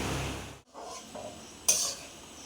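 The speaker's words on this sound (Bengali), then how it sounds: "এই যে দিদি সব সবজি ফবজি দিল আর কি কড়াইয়ে।" Vegetables for fried rice are stirred in a kadai at an outdoor picnic, a spatula scraping and rattling against the pan in brief strokes, ending with a sharper metallic clank.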